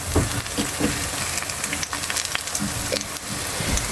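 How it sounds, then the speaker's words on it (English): Overripe banana pieces fry in a pan with a steady, dense sizzle and crackle, close and fairly loud, with occasional light stirring or clinks and no talking. "They don't take too long to fry at all."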